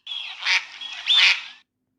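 A swan call, two loud honking, nasal bursts close up, the second stronger and rising, standing alone without talk.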